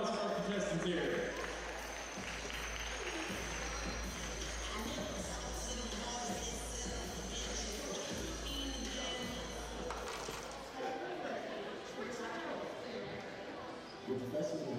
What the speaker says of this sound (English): big round of applause for our contestants here.